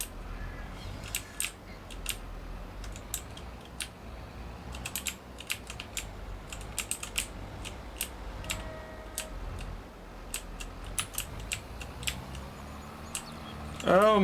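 Computer keyboard keys are tapped in irregular clusters of sharp, close clicks while driving in Farming Simulator, over a low steady background hum.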